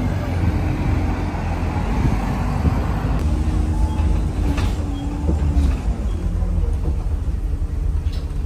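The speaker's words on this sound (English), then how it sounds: "I remember that train. It's a long, long train." A continuous heavy rumble of a long train rolling past in Cardiff, Wales, steady and loud throughout, with faint clanks and rattles over the roar.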